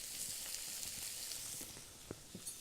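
A pot of water at a boil for cooking gnocchi gives a soft, steady hiss and bubbling with a few small pops, fairly quiet and without any voices.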